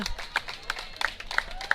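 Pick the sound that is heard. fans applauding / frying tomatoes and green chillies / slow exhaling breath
fans applauding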